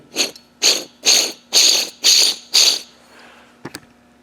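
A rough grinding rattle from a worn bearing in a Land Rover 200Tdi oil and vacuum pump drive repeats in six even bursts as it is turned by hand, followed by a pause and a couple of faint clicks.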